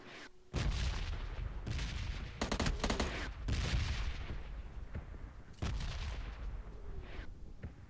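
Gunfire in a battle royale video game, with dense bursts of rapid shots crackling loud and close, broken by short pauses and a final burst.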